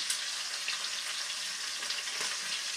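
Beef short ribs browning in a pan make a steady, close, moderately loud sizzle with a continuous crackling hiss and small spits, with no voice over it.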